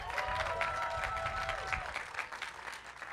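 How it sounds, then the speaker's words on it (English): Audience applause at a college graduation ceremony, steady dense clapping from a large crowd that runs throughout and thins slightly toward the end, with a sustained tone fading out early on. "Can we hear another round of applause for Pranav?"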